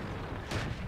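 A single tank cannon shot from a British Comet medium tank in World of Tanks, fired at a KV-2, lands as a brief loud boom over dense game noise.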